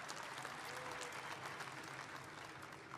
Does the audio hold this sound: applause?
yes